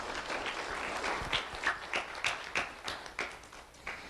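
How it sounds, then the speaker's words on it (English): Audience applause for sheriff's office volunteers at a community event, moderately loud with distinct individual claps popping out of the steady patter, tapering slightly toward the end. "let's have a round of applause for our Sheriff's Office voice members"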